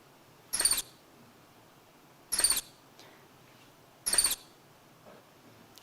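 Three brief, high-pitched chirping calls from a capuchin monkey ring out at regular intervals, sharp and fairly faint against near silence.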